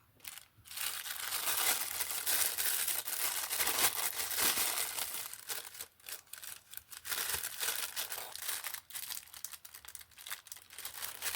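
Continuous crinkling and crackling of stiff plastic wrapping being handled and pulled open up close, with a few brief pauses, no talking.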